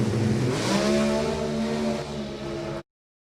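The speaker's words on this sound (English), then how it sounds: "The 6-cylinder altered." At New England Dragway, a 6-cylinder altered and a small block Cavalier drag race car roar loudly side by side, engines revving hard with a rising pitch before the sound cuts off abruptly.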